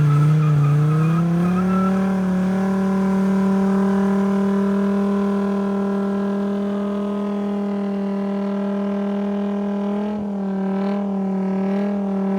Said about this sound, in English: I did promise you guys a gnarly burnout though